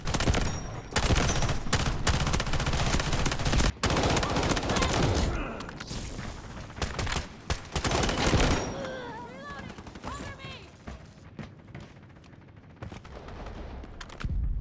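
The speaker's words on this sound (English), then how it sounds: "Taking heavy fire!" Heavy gunfire in the Delta Force video game: dense, loud bursts of rapid automatic shots and blasts pound almost continuously, then thin into scattered shots with a softer battle din near the end.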